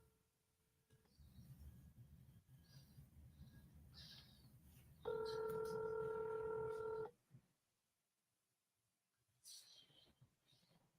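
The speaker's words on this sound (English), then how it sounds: "let me call him right now and let him know that you're here" Telephone keypad tones dial out, followed by a steady two-second ringback tone and a brief electronic chirp, heard alone in a quiet room after low background murmur.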